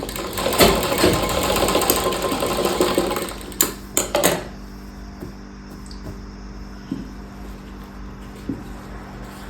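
A sewing machine stitches a sleeve design on a garment, running in a steady close-up whir for about four seconds before stopping, followed by a few light clicks and handling sounds.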